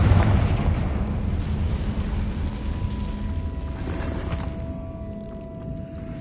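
A Confringo blasting spell detonates in Hogwarts Legacy, a loud booming explosion at the start that rumbles and decays slowly into a fading tail over several seconds, with no talking.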